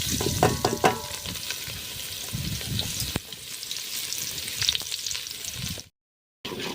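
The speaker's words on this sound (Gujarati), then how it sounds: "હવે આપણે આ ડુંગળી કકડાઈ જાય ત્યાં સુધી રાહ જોઈશું" Chopped onion and garlic fry in hot oil for a spiced yogurt tempering, making a loud, dense sizzle with stirring scrapes that drops to silence for a moment before resuming.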